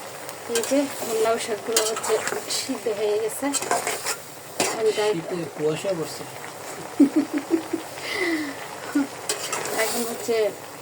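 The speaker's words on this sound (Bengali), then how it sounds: "এই যে এখানে হচ্ছে আমি শাক ভাজিটা বসে দিছি হালকা একটু পেঁয়াজও দিছি" Bottle gourd greens frying with onion, garlic and dried chili, a light sizzle under busy metal clatter of a utensil stirring and scraping the pan while a person talks throughout.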